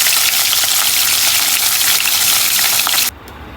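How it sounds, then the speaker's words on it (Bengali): Fish frying in hot oil makes a loud, steady sizzle close up, cutting off abruptly near the end. "এই তেলের মধ্যে হচ্ছে মাছ ফ্রাই করছি"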